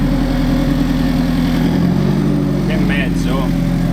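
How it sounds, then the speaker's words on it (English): An Alfa Romeo 4C Spider idles through an Akrapovic titanium and carbon fiber exhaust, a loud, steady, close burble throughout, with a person talking over it. "This is the Akrapovic exhaust. This is an exhaust that is in titanium and carbon fiber."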